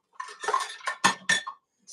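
Metal kitchen utensils clink and clatter as a pastry blender is pulled from a drawer, a quick cluster of rattling jangles and sharp chinks close by, ending in quiet.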